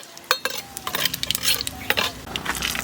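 A utensil stirs mustard seeds and dried red chillies in hot oil in a pan, with repeated metallic scrapes and clicks over a soft continuous sizzle, close and fairly loud.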